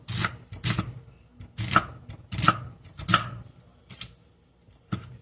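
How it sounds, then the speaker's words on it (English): Half of a medium onion is being chopped on a board: a run of distinct close knife strikes in an uneven rhythm, some in quick pairs, with short quiet gaps and no talking. "this is half of an onion, a medium onion chopped"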